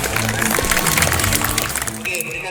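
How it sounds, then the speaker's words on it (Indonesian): Audience applause at a children's taekwondo demonstration in Papua: a dense, steady patter of many hands clapping that fills the scene, with a narrator's voice over it. "Gemuruh tepuk tangan penonton semakin memeriahkan suasana."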